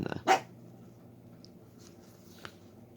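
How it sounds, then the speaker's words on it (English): A single dog barks once in the distance in a park, followed by a quiet pause and a faint second yelp, over a low background hum. "I think it's some dogs out"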